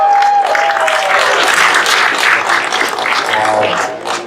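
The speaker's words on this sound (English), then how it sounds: "So everyone, please give them a round of applause." A convention crowd applauds a panel of wrestling legends, a full, steady burst of clapping from many hands that stays strong and then begins to thin, with a faint tone and voices at the edges.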